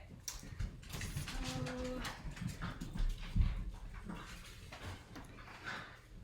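Dogs whimper and make short yelping whines amid scuffling and movement noises nearby, with no clear barking.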